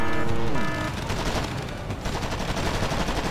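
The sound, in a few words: Bradley fighting vehicle gunfire in video game Wargame Airland Battle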